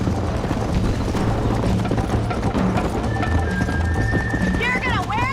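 Horse hooves gallop in a fast, dense, continuous drumming through a race between riders, close and loud, with a horse's whinny rising near the end and voices in the background.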